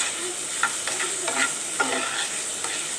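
Capsicum and tomato fry in a pan with a splash of vinegar, a steady soft sizzle under occasional scraping stirs, close and fairly quiet with no talking.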